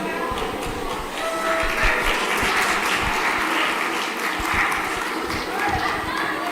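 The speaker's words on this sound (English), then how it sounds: "A huge round of applause for Connie." Audience applause at a refugee community forum in New Zealand, welcoming someone speaker to the stage: a steady, dense wash of clapping from a sizable crowd, sustained throughout at even loudness, with a voice speaking over it.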